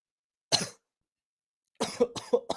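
Two bursts of coughing: a single sharp cough, a pause of silence, then a rougher cluster of several coughs in quick succession, close and fairly loud.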